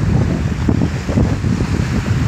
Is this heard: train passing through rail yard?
no